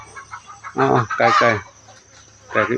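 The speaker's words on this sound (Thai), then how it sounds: "ไก่อยู่ตรงนั้น" Hens clucking in short bursts close by at a temple in Chae Hom, Lampang, Thailand, with a pause before another round of clucks; faint background hum throughout.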